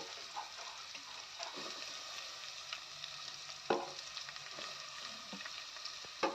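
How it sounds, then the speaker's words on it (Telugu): Chopped onions and green chilies fry in a pan for a prawn curry: a soft, steady sizzle with occasional stirring scrapes and clinks, quiet and close, with no talking. "ఉల్లిపాయలు పచ్చిమిరపాయలు కోసుకున్నాం కదండి అవి వేసేసి దోరగా వేపించాలండి"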